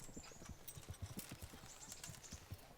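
Horse hooves clip-clop at a steady trot in Kingdom Come: Deliverance, the rhythmic thuds close and moderately loud with a faint whinny-like tone above, and no talking.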